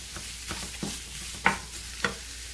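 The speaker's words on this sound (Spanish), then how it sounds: "Y lo vamos a mezclar muy bien con la cebolla. A que se sofría muy bien." Chorizo and onion sautéing in a pan with a soft sizzle, broken by several scraping stirs and a couple of sharper utensil knocks against the pan.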